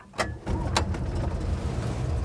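A couple of short clicks from an Invacar's dynastart, then the engine suddenly catches and settles into a steady close running rumble without talk.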